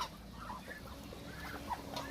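Chinese ducks on a duck farm give a few faint, distant quacks over a steady low background hum, with no talking.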